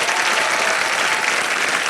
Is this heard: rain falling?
no